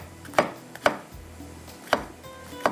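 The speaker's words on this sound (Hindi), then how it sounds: "यहाँ पर कटिंग करके डाल देते हैं" Ridge gourd (turai) being chopped on a cutting board, with four crisp, evenly spaced knife strikes close up and quiet pauses between them.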